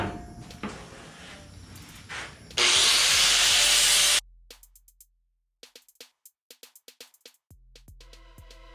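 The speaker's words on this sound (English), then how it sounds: "I'm going to use the grinder and clean up these welds so I can slide it back on and re-weld it." An angle grinder cleans up welds on a sway bar arm, giving a short, harsh, loud grinding burst of under two seconds, then trailing off into a series of sparse small clicks and knocks.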